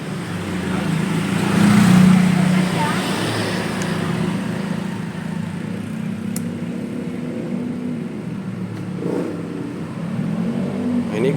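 TVS Apache motorcycle converted from fuel injection to a carburetor, its engine running and revving steadily close by, with a swell in revs early on and then a sustained drone.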